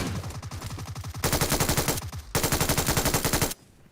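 Rapid bursts of automatic machine gun fire in the battle royale game PUBG, loud and close, with two long sustained volleys separated by short pauses before cutting off.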